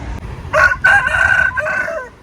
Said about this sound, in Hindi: जी यहाँ इस स्टेशन में मुर्गी भी सेल कर रहे हैं।